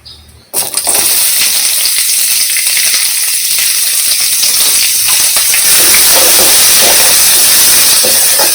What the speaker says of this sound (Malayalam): ഇനി നമുക്ക് ഈ സബോളയും അതുപോലെ തന്നെ ഇതും ഇട്ട് കൊടുക്കാം.